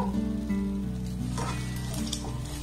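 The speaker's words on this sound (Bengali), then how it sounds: "এই চামচের এক চামচ এখানে আমি ঘি দিয়ে দেব" Sizzling and frying in a pan as ghee goes into hot milk with puffed rice, stirred into a stiff dough; a steady close sizzle with stirring scrapes and no talk.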